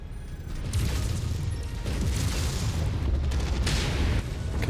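Artillery shells burst in MechWarrior 5: Mercenaries, a steady stretch of heavy rumbling booms and mechanical battle noise without talk.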